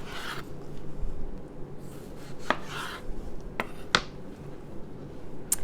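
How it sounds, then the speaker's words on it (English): Tomato being chopped by the S-blade of a food processor, with a rough, scraping churn broken by several sharp clicks and knocks, heard close with no one talking. "So now I'm going to switch to my S-blade so that I can put a tomato in there."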